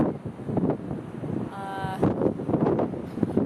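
Strong gusting wind at a beach buffets the microphone in a loud, rumbling roar, with a voice partly heard beneath it.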